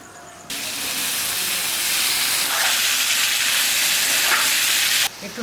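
Taro leaves dropped onto garlic and green chilli in hot oil for a Bengali fish-head greens dish, giving a loud, steady sizzling hiss that bursts in suddenly and runs continuously before cutting off near the end.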